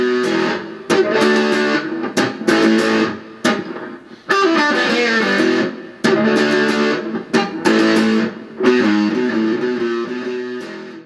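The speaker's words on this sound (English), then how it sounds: "Let's try that on distortion so you can hear it." Distorted electric guitar chords strummed loudly, ringing out in sustained bursts with brief pauses between them, no voices.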